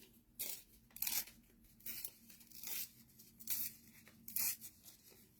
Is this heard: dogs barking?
no